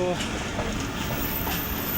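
The 13 Up Awam Express, running with old coaches out of Rawalpindi, rumbles along the rails with a steady rattling roll and faint clickety-clack, heard from onboard.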